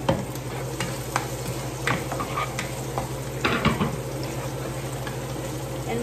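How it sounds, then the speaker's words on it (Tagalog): Chopped sausage fries in a pan with onion and garlic, a soft continuous sizzle punctuated by scraping stirs and light clicks of a utensil against the pan. "And malapit nang maluto ang aking sausage."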